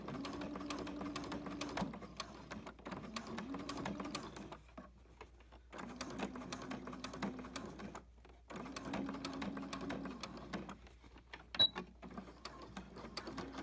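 A sewing machine stitches binding in several steady close runs separated by short pauses, with faint mechanical ticking throughout.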